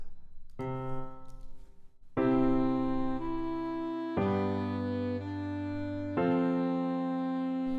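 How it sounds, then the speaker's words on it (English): Four sustained chords played one after another, each ringing out before the next strikes, with a short pickup note at the start. "So my current chord progression sounds like this."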